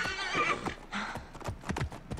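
A horse whinnies loudly, then hooves clip-clop in a quick, irregular rhythm close by, in the video game Assassin's Creed Origins.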